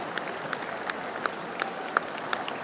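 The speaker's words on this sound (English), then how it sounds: "Please give them all a round of applause" Applause from an audience around a dog show ring, a steady wash of clapping at moderate distance with a few sharper individual claps standing out; no voices over it.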